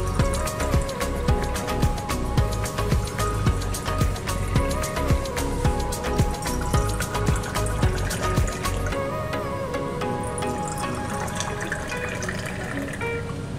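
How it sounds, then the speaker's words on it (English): Liquid poured into a skull head shaped shot glass, a steady close trickle and splash with clinking tones throughout, easing off toward the end as the glass fills. "Now let's pour a drink into this."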